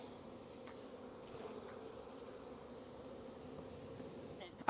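A steady, dense buzzing of a honeybee swarm hums continuously, fairly close, with no talking over it.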